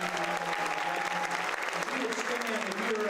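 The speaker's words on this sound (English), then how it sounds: "That's the other group that I would like to ask you to give a round of applause to." Town hall audience applauding veterans at a congressman's meeting, sustained dense clapping filling the room, with some voices mixed in.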